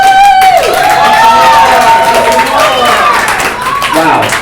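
A comedy show audience cheers loudly, with several shrill whistles and whoops rising over a continuous wash of crowd noise and clapping.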